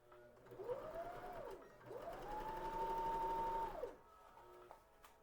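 Sewing machine stitching fabric down on a crafting project, two bursts of motor whir rising and falling, a short one then a longer steady run of about two seconds, fairly quiet and close.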